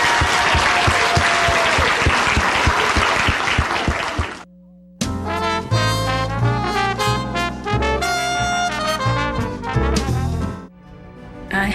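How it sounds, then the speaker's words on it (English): Audience applause, a dense, steady crackle of many hands clapping close and loud for about four seconds, stopping abruptly as instrumental music takes over for the rest of the clip. "Let's all give them a round of applause."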